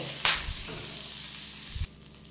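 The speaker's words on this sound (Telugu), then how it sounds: "అందుకోసం అవి కూడా ఆయిల్లోకి వేసి వేయించేద్దాము." Drumstick leaves frying in hot oil in a pan, a steady close sizzle with a sharp burst as they hit the oil and a second flare near the end.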